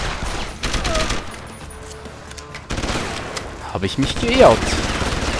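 Enemy gunfire shattering and punching through a glass pane in Deus Ex: Human Revolution, dense bursts of shots with sharp cracks scattered across the span, loud and near, with someone speaking German over it.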